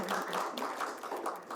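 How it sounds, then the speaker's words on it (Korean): Audience at a Seoul policy forum on jobs for young people with disabilities gives sustained applause, a dense continuous patter of many hands clapping, moderately near and without talk over it. "김경영 의원님께 다시 한번 뜨거운 박수 부탁드리겠습니다."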